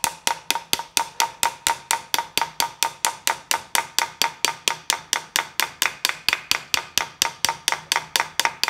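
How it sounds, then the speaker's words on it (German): A hammer shapes brass for a trumpet, finishing each blow on a wooden board: about thirty quick, evenly spaced knocks with a woody ring, steady and close, with no talking. "Deshalb hört sich das auch immer so hölzern an, weil der Hammer zum Schluss auf dem Holzbrett"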